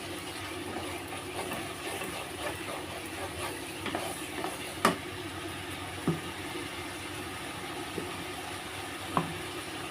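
Spice paste with poppy seed paste sautés in oil for prawn malai curry, giving a soft steady sizzle with occasional clinks of a spoon against the pan.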